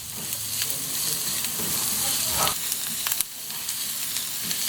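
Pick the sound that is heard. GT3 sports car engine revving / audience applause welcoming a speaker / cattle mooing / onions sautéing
onions sautéing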